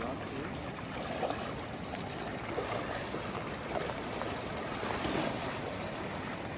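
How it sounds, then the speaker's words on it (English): A river flows steadily as hikers wade across it on the Pacific Crest Trail near Deep Creek Hot Springs, a constant broadband rush of water close by, with no clear voice over it. "Nice little river crossing"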